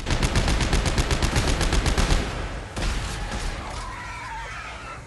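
Sustained automatic machine gun fire in the video game Dead Space 3, a dense rapid stream of loud shots for about two seconds, then a short gap and a fading, softer rattle with ringing echoes.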